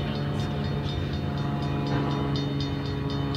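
A CSX freight train rolls past a railroad crossing, a loud, steady rumble close by with a faint, regular clicking of wheels on rail joints throughout.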